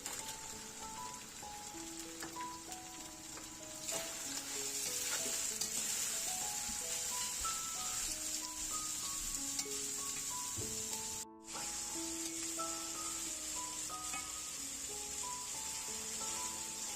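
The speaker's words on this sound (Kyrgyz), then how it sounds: "Мына ушундай куурулган соң пиязды салабыз да, пиязды дагы алтын сары үнгө келгенче бирге кууруп алабыз." Onions frying together with meat in a pan for homemade goulash give a constant, hissing sizzle. It runs under a light melodic music track, with a brief dropout partway through and no talking.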